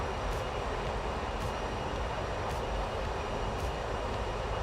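The engines of an MD-11 airliner in a flight simulator game give a steady, loud broadband roar with an even rumble that holds unchanged throughout.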